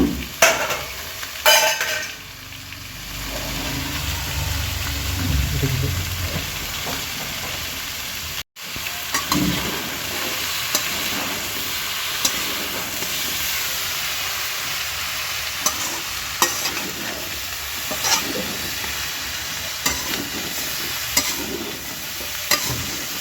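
Khichuri with peas is stir-fried in a pot, giving a continuous sizzle broken by spoon scrapes and clanks, with a brief heavier rumble near the start.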